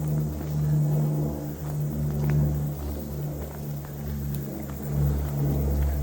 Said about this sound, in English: Go away, noisy airplane.